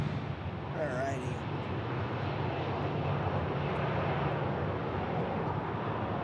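Southwest Airlines jet taking off for Houston, a broad rumbling engine roar at a distance that swells steadily, with a person talking briefly over it near the start.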